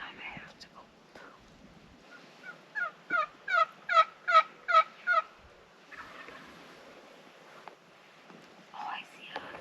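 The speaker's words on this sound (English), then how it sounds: "Maybe it's a gobbler or it's a hen that came back." A wild turkey gobbles in a spring Wisconsin woodland, a burst of six or seven rapid rising calls at middle distance, with soft whispering before and after.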